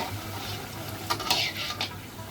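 Jibe goja sweets frying in hot oil in a kadai, a low steady sizzle with a few short clinks and scrapes of a spoon or slotted ladle against the pan near the middle.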